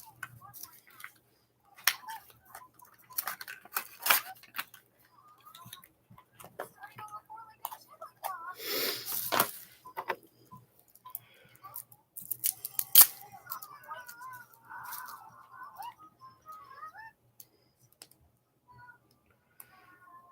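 Paper being cut with scissors, a series of short crisp snips and slicing sounds scattered across the stretch at moderate closeness, with quiet speech and light handling noises around them.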